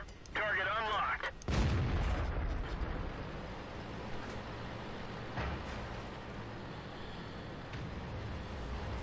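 A loud cannon blast from an IS-3 heavy tank in World of Tanks rings out near the start, followed by a second boom and a dense rumbling battle mix, with game radio voice cues layered over it.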